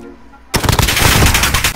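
Gunfire in the video game Call of Duty Modern Warfare, a loud burst of rapid automatic shots that cuts in suddenly after a quiet moment and rattles on steadily to the end.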